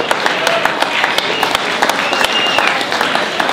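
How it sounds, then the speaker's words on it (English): A crowd at a dinner dance applauds an honoree with steady, dense clapping that is loud throughout and holds even, with individual claps standing out. "I'd like to give a round of applause for Mr. Joe Gambino."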